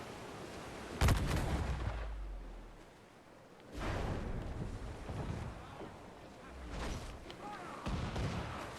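Ship cannons firing in Assassin's Creed Black Flag, with loud booming blasts around the one-second mark and again near four and seven seconds, amid wind and sea noise and shouted orders from the crew.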